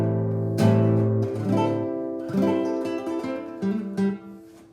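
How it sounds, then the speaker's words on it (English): Guitar notes flowing in quick pentatonic legato runs, hammer-on and pull-off phrases with a few sharper picked attacks, played alone at moderate volume. "It's that kind of like hammer-on, pull-off thing."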